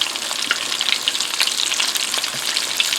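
Salmon croquettes frying in a pan, a steady loud close sizzle with dense crackling spatter throughout and no talking.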